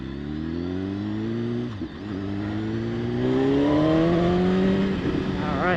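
A 2016 BMW S1000RR motorcycle accelerates hard, its engine tone climbing, dipping briefly at a gear change, then rising again in a loud, close, sustained whine.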